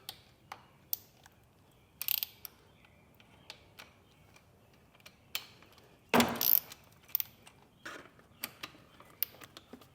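Hex-bit ratchet loosening the cam cover bolts on a 2022 Harley-Davidson Road Glide ST, heard as sparse close clicks and short ratcheting bursts with quiet gaps between them.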